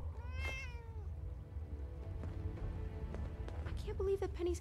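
A cat meows once in the video game Fallout 76, a clear rising-falling call near the start, over a low game ambience with soft footsteps and other faint game sounds.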